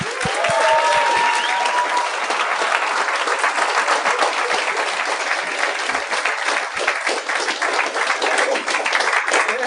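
A studio audience gives a long, enthusiastic ovation to welcome show guests Pierre Prince and François Morency. The dense clapping holds steady for nearly ten seconds, with a brief whoop or whistle near the start.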